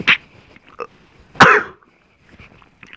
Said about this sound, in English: I sneezed and coughed